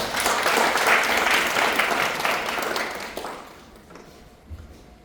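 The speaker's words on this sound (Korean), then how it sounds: "요 박수 한 번씩 부탁드립니다" An indoor audience at an orientation session claps for officers being introduced, dense loud applause for about three seconds before it thins out and fades to near quiet.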